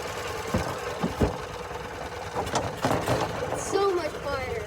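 A golf cart engine runs steadily and fairly quietly after an exhaust leak repair, with a low rumbling throb and voices talking over it throughout.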